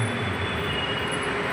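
A Mumbai metro train at Marol rumbles overhead as a steady, loud, continuous roar with rail noise, heard from the street directly below the elevated track.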